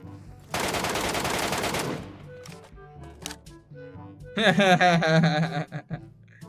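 Gunfire from a bot in Metro Royale: a dense burst of automatic fire lasting over a second, a few scattered clicks and thuds, then another loud burst with a voice talking over it.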